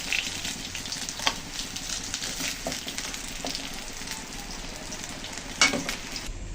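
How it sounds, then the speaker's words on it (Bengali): Bain fish (eel) fry in hot oil in a home kitchen, giving a steady, fairly faint sizzle and crackle throughout with a few sharper pops. "তো মাছগুলো কিন্তু আমি সুন্দর করে ভেজে নিলাম, এখন আমি তুলে নেব।"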